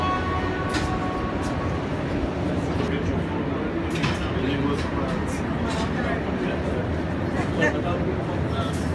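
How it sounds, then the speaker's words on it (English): Montreal subway train ride heard from inside the car, a steady rumbling roll with faint clanks and squeals, voices of passengers talking underneath. "Yeah, taking the subway while I'm here."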